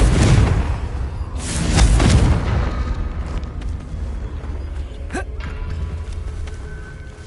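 Spell explosions in Hogwarts Legacy, loud booming bursts with rumbling low-end tails at the start, followed by crackling impacts and a sharp hit midway over ongoing game ambience.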